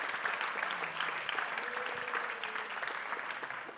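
An audience at a university science contest forum in Linz applauds continuously, a fairly faint, even wash of many hands clapping at a distance.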